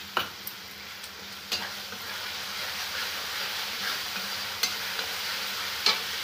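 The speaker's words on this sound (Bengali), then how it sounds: "আর একটু কষিয়ে নেবো আমি দইটা দিয়ে।" Spice paste mixed with a little mildly sour yogurt sautés in a pan for a Bengali mutton dish, giving a soft continuous sizzle with a few sharp spoon scrapes and clicks.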